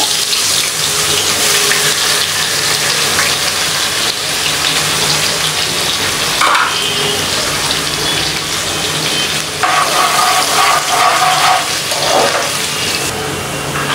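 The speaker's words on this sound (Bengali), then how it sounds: "দিয়ে দিব পেঁয়াজ কুচি।" Chopped onion hits hot oil in a pan after fish has been fried, a loud continuous sizzle and hiss with stirring clatter, briefly louder bursts partway through, no voices.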